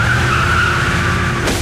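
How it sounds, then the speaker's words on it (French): A car skids off the road in a video game after hitting a staggering man, with a steady high tire squeal over engine rumble and a sharp burst of noise near the end. "la voiture culbute un étrange type qui titubait au milieu de la route"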